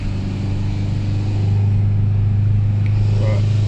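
A car engine drones steadily in a low, even hum under engine braking while descending Doi Chang, with faint brief squeaks near the end.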